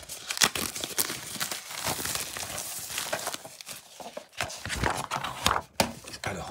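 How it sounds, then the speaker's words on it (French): Crinkling and tearing of plastic wrap and packaging as an Oppenheimer FNAC steelbook 4K Blu-ray edition is unboxed, with irregular close rustles and a few sharper snaps, no talking. "on va procéder au déballage tout de suite de cette édition"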